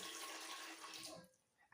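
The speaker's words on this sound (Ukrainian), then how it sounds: "Заливатимемо ми новою чистою водою." Fresh clean water is poured over cucumbers being prepared for pickling with mustard seeds, a loud, close rush of water that stops abruptly with a few faint drips and clinks.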